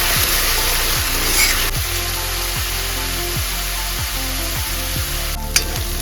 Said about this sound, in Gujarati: હવે એમાં નાખીશું ડુંગળી, લસણની પેસ્ટ, બ્રાઉન થાય ત્યાં સુધી એને પકડવાનું છે આપણે